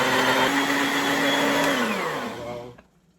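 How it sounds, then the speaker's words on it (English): A loud blender whirs steadily, chopping for a few seconds before its motor winds down and stops. "Then go in the blender, and we're gonna chop this up."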